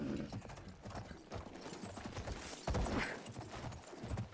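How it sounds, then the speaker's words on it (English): Horse hooves clip-clopping in the video game Battlefield 1, a quiet run of irregular hoof knocks mixed with mechanical clatter and faint game noise. "Give me the horse."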